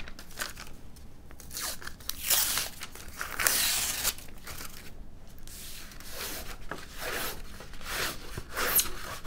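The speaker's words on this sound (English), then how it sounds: "go ahead and remove paper from the skin labeled 6CB." Paper backing peels off the skin panel of a 50-inch Mosquito model airplane kit in a series of close crinkling, tearing strips with short pauses between pulls, fairly quiet and with no talk.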